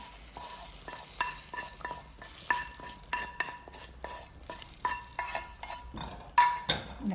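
Spoon stirring soup with fried onions in a pot, steady scraping and clinking strokes in an uneven rhythm over a low, continuous sizzle, fairly quiet and close.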